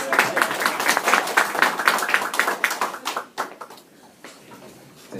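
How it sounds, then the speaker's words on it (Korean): An indoor audience at a Korean presentation claps in a steady burst of applause that thins out and fades to scattered claps over a few seconds. "박수 한번"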